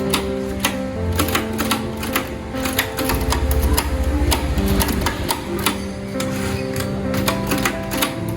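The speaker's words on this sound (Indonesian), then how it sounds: "Tolong ketik naskah ini." A manual typewriter clacks through a typed document in a historical proclamation reenactment, irregular bursts of sharp keystrikes with brief pauses and mechanical carriage clunks, close and clear with a low hum beneath part of it.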